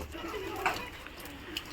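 Pigeons on a farm in Savar, Dhaka, let out after the rain, give a soft, brief coo amid faint bird calls over a low, steady background.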